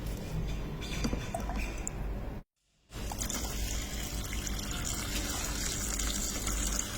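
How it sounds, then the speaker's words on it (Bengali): Water pumped from a reserve tank pours and trickles steadily into a domestic tank, a continuous splashing flow that cuts out briefly to silence and then resumes at the same level. "এখান থেকে পানি আসছে পাম্পের মাধ্যমে"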